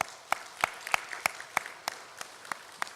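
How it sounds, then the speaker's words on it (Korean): A church congregation claps at a Sunday afternoon service, about ten sharp, evenly spaced claps at a steady rhythm, faint and distant over a quiet hall. "한 번 더 박수하겠습니다"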